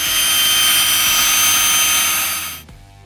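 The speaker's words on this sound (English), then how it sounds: "So we've got our drill with a 5/16 drill bit." A power drill with a 5/16 bit bores through a truck door panel, giving a loud, high, continuous whine that runs for over two seconds before stopping abruptly.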